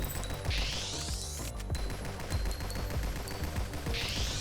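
Rapid weapon fire in the video game Nimrods, a dense, steady run of quick shots with sweeping futuristic effects, loud and continuous over game sounds with no talking.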